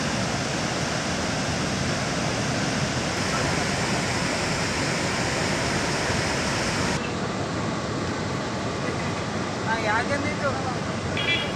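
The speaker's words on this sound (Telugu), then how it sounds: "దీంతో జలాశయం 7 గేట్లు 10 అడుగుల మేర ఎత్తి దిగువకు నీటిని విడుదల చేస్తున్నారు." Floodwater pours through the raised gates of the Srisailam dam in a loud, continuous, roaring rush that stays dense and unbroken throughout.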